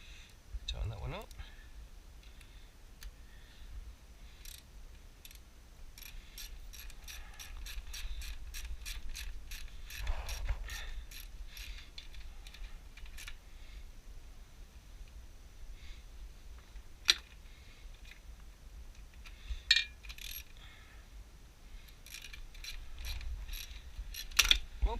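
A ratchet tightens the exhaust clamp on a Suzuki Bandit 650 race can, giving rapid runs of sharp metallic clicks in bursts, close and fairly quiet, with a few louder knocks and pauses between.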